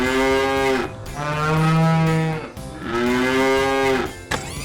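A cartoon monster truck moos like a cow, a voice imitating two long, loud, drawn-out lowing calls separated by a short pause.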